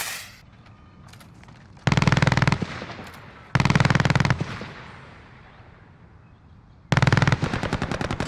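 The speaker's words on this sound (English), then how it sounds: "Friendly sentry gun online." A friendly sentry gun in Call of Duty: Modern Warfare fires three sustained automatic bursts with short pauses between them. Each burst is loud, rapid and mechanical, and a faint echo trails off after each one.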